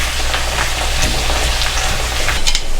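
Squid stir fry sizzling in a hot pan, a loud dense continuous crackle with scattered pops and a brief stirring scrape, close and with no talk.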